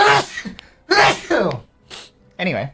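A NIJISANJI EN VTuber sneezes with a sharp, voiced burst at close range, set among short vocal outbursts and a brief spoken word.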